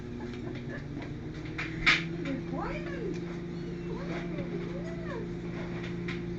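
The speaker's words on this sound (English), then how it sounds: "We have hungry kitties. The kitties are hungry." Several hungry cats meow repeatedly at close range, their rising and falling cries overlapping above a steady low hum, with a brief clatter partway through.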